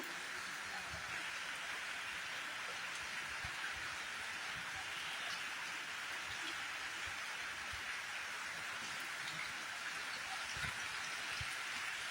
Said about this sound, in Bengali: অনেকটা ভালো লাগছে বৃষ্টির মধ্যে